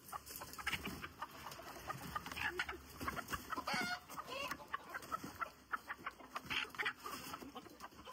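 A large hen fidgets and clucks beside a clutch of fifteen eggs as she settles to brood, her soft repeated clucks close and steady over a busy background of other chickens and faint farmyard noise.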